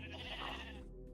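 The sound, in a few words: sheep bleating in the video game Minecraft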